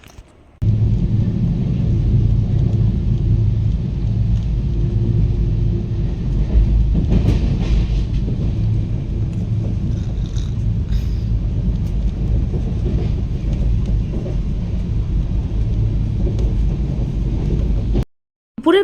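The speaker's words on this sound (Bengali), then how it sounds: "ট্রেন এবার চলতে শুরু করে দিয়েছে কলকাতা স্টেশন থেকে।" A train pulling out of Kolkata station, a loud steady rumble with wind buffeting heard from on board, continuing evenly before cutting off near the end.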